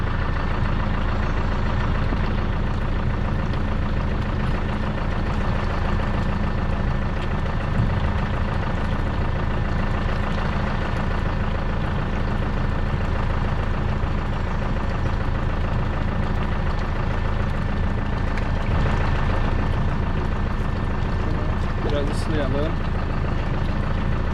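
A Deutz-Fahr tractor runs steadily with its PTO shaft engaged, a continuous low engine drone with mechanical hum throughout, close by, with someone speaking over it.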